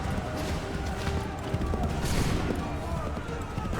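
Soldiers fire a musket volley during a battle in Assassin's Creed 3 Remastered on PS5, a dense, loud, sustained roar of gunfire and battle noise with no pause.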